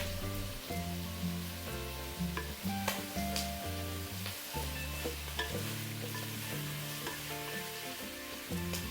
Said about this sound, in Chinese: 放入鸡块翻炒， 待所有鸡块均匀裹上糖色后，放入姜片和1个葱节